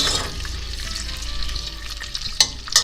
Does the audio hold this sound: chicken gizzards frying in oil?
yes